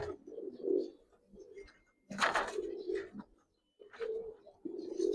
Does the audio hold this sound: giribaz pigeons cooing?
yes